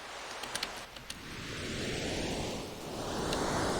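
A synthesized white noise note played in a low octave for stormy wave sound design, with a filtered hiss that swells and sweeps upward like surf, soft and continuous after a few faint clicks.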